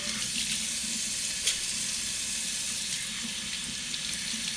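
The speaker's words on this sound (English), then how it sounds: "So, I'm just giving it a quick rinse." Tap water runs into a kitchen sink as a cabbage is rinsed, a steady rushing splash with small irregular spatters and no voices.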